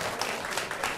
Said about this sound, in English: Yes, give him a round of applause there.